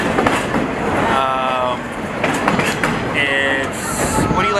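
A holiday light train, decorated with lights, rolls along rails nearby with a steady rumbling clatter and a brief squeal, while people talk over it throughout.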